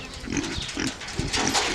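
Two young Kunekune pigs, about eight months old, grunt repeatedly on a farm in a steady series of close, moderately loud, low snorting grunts with no talking.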